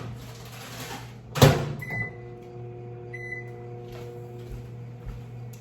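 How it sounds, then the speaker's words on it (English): A microwave oven heating frozen broccoli hums steadily after a door thud, with a couple of short beeps; no talking. "I am going to go throw this in the microwave."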